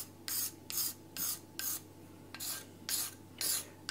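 A whetstone rubbed back and forth on wet sandpaper to flatten it, producing rhythmic rasping strokes, about seven close and fairly loud scrapes with brief pauses between them.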